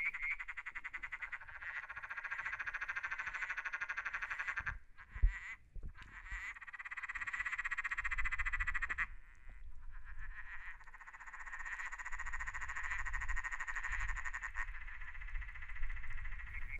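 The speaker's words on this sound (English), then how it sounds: "the easier it will be to identify the frog calling" Frog calling steadily, a dense buzzing croak chorus that stays loud and continuous throughout, with brief breaks and a few bumps, recorded close up with no voices.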